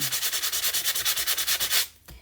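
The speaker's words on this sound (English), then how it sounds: "find my sanding block, and I'm just going to sand" A sanding block rubbed briskly over Stampin' Up! two-tone cardstock, a steady run of about fifteen evenly spaced raspy strokes, close and loud, ending with a softer final scrape.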